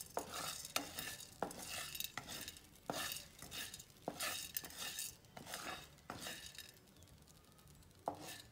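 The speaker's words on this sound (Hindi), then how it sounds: "इसे अच्छे से हम भून लेंगे।" Onions are stir-roasted in a kadhai, with a spatula scraping and knocking against the metal in repeated strokes over a soft sizzle, close but fairly quiet.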